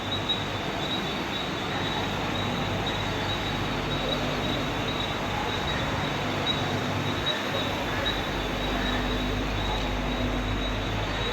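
A local train runs toward Panvel, its wheels and carriages producing a steady, loud rumble with dense rattling noise that holds evenly for about eleven seconds, with no voices.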